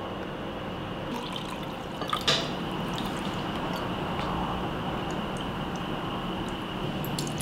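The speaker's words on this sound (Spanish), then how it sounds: "el resto lo voy a completar con agua." Water pours into a measuring cup holding coconut milk, a soft, close trickle and splash with a few drips, fairly quiet and steady, with no voices.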